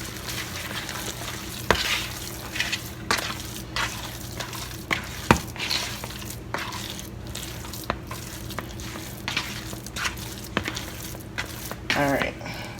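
A meatloaf mixture is stirred together with ketchup, giving soft squishing and scraping sounds with occasional clinks of a utensil against a bowl, close by, while a person talks throughout.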